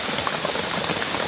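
Heavy storm rain pours down in a forest, a dense, continuous hiss of drops close by with no talking.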